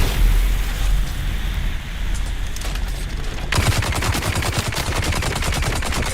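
Rapid automatic gunfire in the video game Dune Awakening, a dense string of loud shots that shifts after a few seconds into a faster, sharper burst, with steady background noise and no talk.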